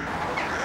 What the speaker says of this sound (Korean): 겨울 철새인 떼까마귀들입니다